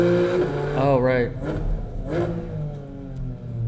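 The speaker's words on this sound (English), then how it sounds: "Just engine noises for half the video." A Porsche GT4 RS engine revs on played-back footage, climbing and falling in pitch with a sharp rise midway, while voices talk over it throughout.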